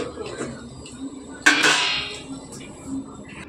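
A metal lid clanks down onto a cooking pot with one sharp bright clatter, followed by a brief ringing rattle, close by in a home kitchen.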